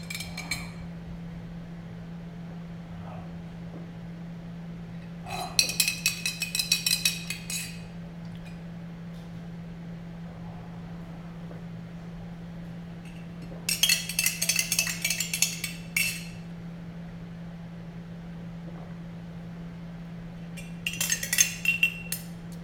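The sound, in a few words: spoon stirring a drink with olive oil and seeds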